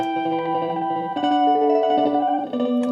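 A DI guitar track pitched one octave up forms a sustained, shimmering texture of held notes. The chords shift a few times and blend into a washy, effected tone with no voices.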